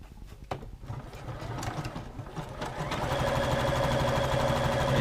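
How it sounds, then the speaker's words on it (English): A Juki F600 sewing machine runs a zigzag stitch, starting with a few hesitant clicks and then settling into a fast, steady mechanical whir with rhythmic stitching pulses, close and alone. "it does a nice zigzag stitch for me"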